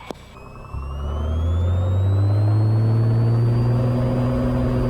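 A Cessna 182 Skylane engine throttles up for takeoff, building from a brief idle into a loud, steady, rising drone that holds for several seconds, close and dominant with no talk over it.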